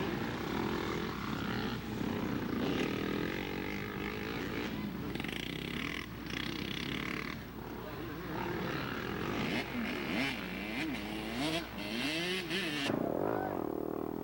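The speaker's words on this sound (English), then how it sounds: "Fed A rider, Tony Grove on a 360 Husqvarna" At a 1994 GNCC cross-country race at Whiskey Ridge, a 360 Husqvarna motocross bike races past. Its engine rises and falls and whines at changing pitch. Steady background roar and distant crowd and announcer noise run beneath it.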